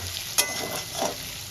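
Garlic, ginger and green chili sautéing with a fish head in a pan, a steady low sizzle with one sharp scrape of stirring early on and a softer stir later.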